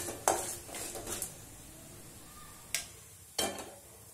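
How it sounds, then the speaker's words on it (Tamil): A spatula clinks and scrapes against a pan as peanuts are stirred and sautéed, with a few sharp metallic knocks spaced out over faint background sizzling, close and otherwise quiet. "அடுத்து கொஞ்சம் வேர்க்கடலை சேர்த்து நல்லா வதக்கிக்கலாம்."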